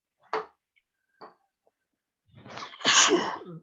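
A single sneeze indoors, preceded by a couple of short sharp intakes and clicks, then a loud, breathy burst near the microphone with no talking over it.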